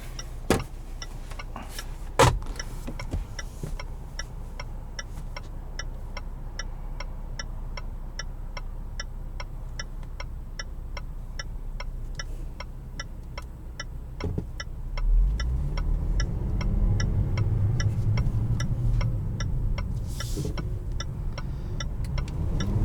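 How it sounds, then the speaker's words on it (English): Inside a 2019 Land Rover Discovery Trek Special Edition in sport mode, a steady ticking clicks on for a long stretch over a low cabin hum. Near the end the engine note swells as the SUV accelerates. "I'm gonna bump it into sport mode for the acceleration"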